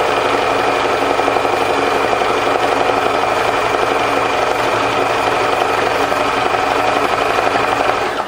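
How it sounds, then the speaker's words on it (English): A sewing machine hums and rattles steadily while stitching over lace, paper and cloth, a fast continuous mechanical buzz running without pause, close and fairly loud. "I'm going to catch that with the sewing machine"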